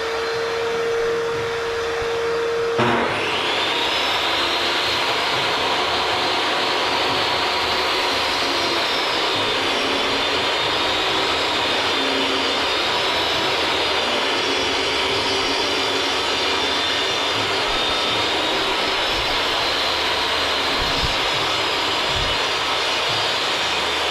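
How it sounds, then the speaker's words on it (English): Dust vacuum in a woodworking shop switching on after a moment of a lower machine tone, then a loud, steady, close whine that runs continuously to the end without talk. "we're going to go ahead and turn the vac on so I don't have the dust everywhere."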